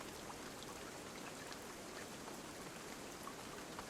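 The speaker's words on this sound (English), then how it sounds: "there's not really too much I can do while it's still raining" Rain falls steadily in the survival video game Dinosystem, a faint, even patter with scattered drops continuing throughout and no talking.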